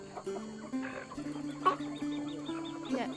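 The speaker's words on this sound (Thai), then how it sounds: "ไก่สีขาวนั่นนะไม่ได้เหรอ สีขาวลาย ๆ นั่นนะข้างล่างนะ" Several chickens, including a white speckled hen, cluck close by in a steady run of rising and falling calls over faint background noise.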